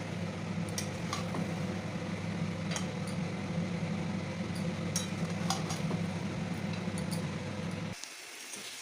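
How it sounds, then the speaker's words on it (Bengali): Marinated chicken stirred into hot spiced oil in a pan, a steady close sizzle with scattered clinks of a utensil against the pan throughout, cutting off abruptly near the end. "দিয়ে দিচ্ছি ম্যারিনেট করা চিকেন। তো ভালো করে মিশিয়ে নেব।"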